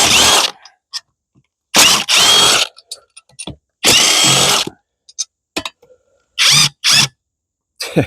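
Impact wrench bursts on the bolts of a blown Kawasaki FB460V engine during teardown, loud close rattling rips of about a second each separated by silences and small clinks.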